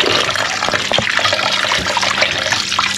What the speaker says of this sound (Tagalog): Ito na po muna namang hugasan ng tubig para po malinis.